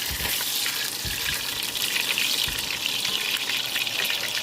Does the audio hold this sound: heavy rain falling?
no